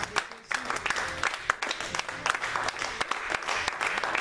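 A church congregation at a French-language service bursts into sustained applause and clapping to acclaim God, a dense, steady roar of hands with a few voices mixed in throughout.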